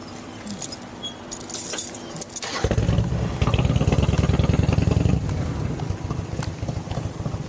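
Car keys jangle close by as they are handed back during a roadside traffic stop, a brief metallic rattle followed by rumbling handling noise and a running engine in the background.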